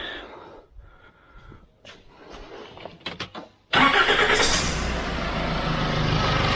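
A Nissan Navara D40 pickup with its EGR valve blocked off by a plate for testing: quiet handling noises and clicks, then the diesel engine suddenly cranks and fires, running loudly and steadily at close range.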